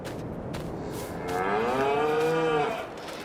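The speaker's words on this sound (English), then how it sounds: "We will check on our cows" Cows mooing in the farming video game Farming Simulator 22: one long, drawn-out moo swells and fades over quiet ambient farm background noise, heard alone without talk.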